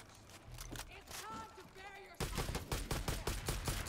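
Gunfire from a full magazine being emptied in Far Cry 5, a rapid burst of closely spaced shots that starts abruptly halfway through and continues loud to the end, after a stretch of voices and game sounds.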